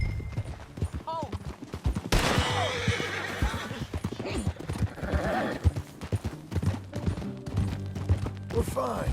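Hooves clip-clop at a gallop while a horse neighs loudly in Red Dead Redemption 2, with scattered cracks and voices mixed in over a busy game soundscape.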